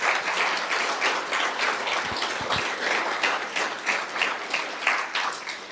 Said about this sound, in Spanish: Dale otro fuerte aplauso a Dios en esta mañana.